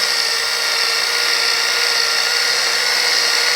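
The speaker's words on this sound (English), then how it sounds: "I'm just not blindly moving the polisher around." A polisher runs steadily on the bed of a 1950 Chevy truck, a constant loud whirring hiss with no change in pitch and no talk over it.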